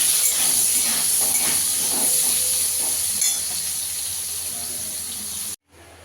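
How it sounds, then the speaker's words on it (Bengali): Potatoes fry in a pan with a steady, loud hiss and sizzle that runs close and unbroken, cutting off abruptly near the end. "আলুটাকে ভালো করে ভেজে নেবো"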